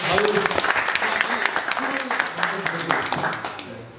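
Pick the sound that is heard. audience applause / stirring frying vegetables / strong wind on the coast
audience applause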